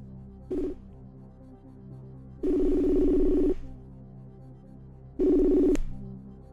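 A telephone dials a call, giving three bursts of keypad tones: a short one, then two longer ones separated by quiet gaps, clear and close with no talk.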